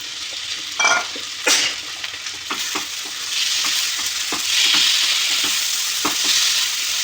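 Okra sizzles in spiced oil in a pan, the steady frying hiss swelling as it is stirred, with several sharp scrapes and clanks of the spoon along the way.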